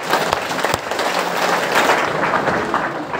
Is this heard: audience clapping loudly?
yes